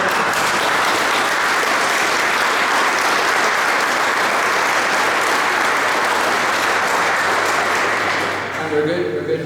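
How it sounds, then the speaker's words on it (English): A large crowd applauds steadily in a great hall at a Somme memorial civic reception, the dense clapping loud and sustained before cutting off near the end as a voice begins to speak. "I think we'll give her a big round of applause."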